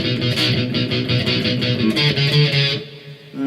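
Electric guitar chugs through a palm-muted chorus B riff, tight rhythmic distorted chords played loud and alone before ringing out briefly at the end.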